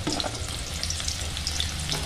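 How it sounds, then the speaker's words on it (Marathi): Onion frying in oil in a wok for Satara-style misal, a steady dense sizzle with faint stirring scrapes, close and continuous with no talk. "त्याच्यामध्ये 3 पळी तेल टाकूया. मिसळ अशी तर्रीबाज व्हायला हवी ना. आता आपण कांदा टाकून घेऊया त्याच्यात."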